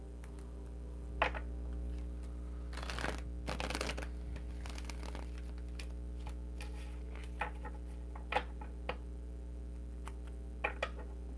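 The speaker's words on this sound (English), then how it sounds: "And I do shuffle a lot." Tarot cards are shuffled close by in a quiet room, with short bursts of riffling and patting separated by pauses over a steady low hum.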